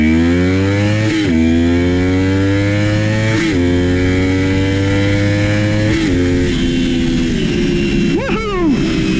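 A 1987 Honda VFR 400 R NC24 motorcycle engine screams high through the upper rev range, its tone rising smoothly through several quick upshifts, loud and close, with a brief voice at the end.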